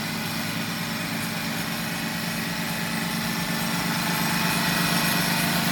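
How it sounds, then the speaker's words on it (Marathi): The engine of a soil compacting machine running steadily at a farmhouse during levelling work, a continuous buzzing drone with a throbbing vibration, moderately close and unbroken, with no talk. "हळूहळू मशीन वळवायचं काम तो करतोय अशा पद्धतीनं हे डुम्मस करायचं काम जे आहे"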